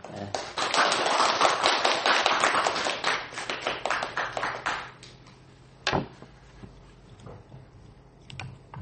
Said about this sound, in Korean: 우리 선교사님 나오실 때 우리 큰 박수로 환영했으면 좋겠습니다